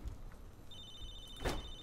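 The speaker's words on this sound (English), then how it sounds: "because it's ringing and it has an animated icon to catch your eye" A telephone ringing in Halo 3: ODST, with a thin high electronic ring tone sustained through most of the stretch over low background game ambience.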